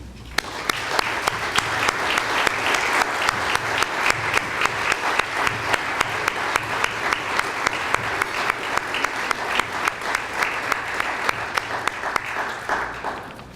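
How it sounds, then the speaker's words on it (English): Sustained applause from a sizable crowd at a scuba diving hall of fame ceremony, steady and even for over ten seconds before tapering off at the end. "join me in a final round of applause"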